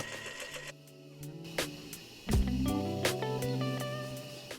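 Sewing machine stitching two buttonholes on a skirt waistband, with a mechanical whir and sharp clicks and clunks as the machine starts, stops and steps through the buttonhole pattern.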